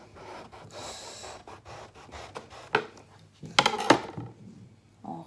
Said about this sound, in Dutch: wat we eerst gaan doen is de aubergine snijden